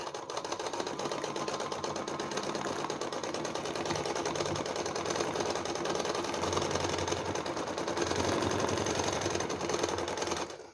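A sewing machine runs steadily at close range and fairly loud, free-motion stitching over patchwork fabric for belts, its needle chattering in a fast, even rhythm for the whole stretch.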